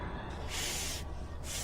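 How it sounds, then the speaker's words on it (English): A demonic-sounding hiss in a creepy, dimly recorded setting, broad airy bursts rising and falling twice over a steady low background noise, moderately loud and with no voices. "later they hear a demonic hissing noise."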